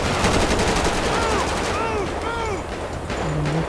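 Gunfire during a GTA 5 bank robbery heist mission, a dense, continuous stream of game shots and effects under someone talking throughout, with whooshing sweeps layered over the steady clatter.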